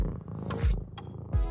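A 13-year-old domestic cat holds a record for loud purring. Its purr is close, continuous and rumbling, with rhythmic breathy pulses and no voices.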